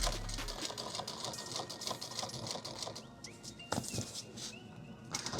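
A sewing machine top-stitches a bag, a dense, steady run of rapid needle strokes that continues close and fairly loud throughout.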